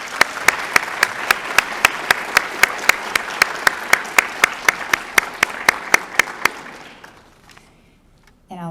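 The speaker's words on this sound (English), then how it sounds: "Nice round of applause for them." An audience applauds at a junior honor society induction ceremony, steady clapping with a few sharp, prominent claps up close, sustained for about seven seconds before tapering into silence.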